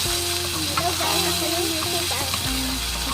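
Corned beef sizzles in a pan for sotanghon, a steady close frying hiss with faint stirring, while someone talks over it.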